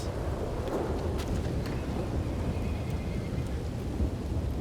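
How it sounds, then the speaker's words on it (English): Steady rain with a low thunder rumble in a Red Dead roleplay game, a continuous dense wash of downpour filling the scene with no talk over it. "Oh, that was a quick thunderstorm."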